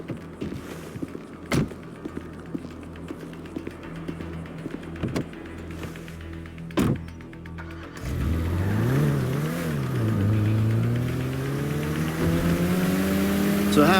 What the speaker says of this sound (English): Shumash, you're driving.